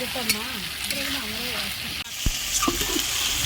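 Spice masala for a meat curry being sautéed down in a pan, a continuous sizzle with stirring scrapes beneath a voice speaking over the first half, then a sharper clatter and louder frying.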